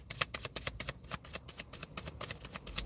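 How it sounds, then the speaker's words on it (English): A deck of cards being shuffled, a rapid run of soft riffling and flicking bursts repeating steadily for about three seconds, close but quiet, with no voices. "How long have I been shuffling for already?"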